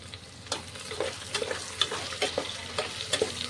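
Tomato and spice masala with garlic paste frying in a pan, a steady close sizzle broken by repeated scraping stirs roughly every half second.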